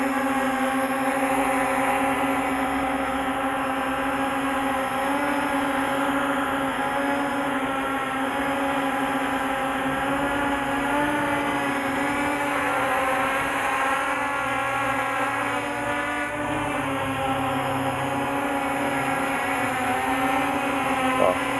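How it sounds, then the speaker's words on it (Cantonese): A Hornet model airplane on a test flight gives a continuous high-pitched motor whine with a steady tone that wavers slightly as it sways in the wind, held throughout with faint outdoor background and no talk. "你睇佢個飛機會擺下咧，就係自己喺度咧避開啲風啊"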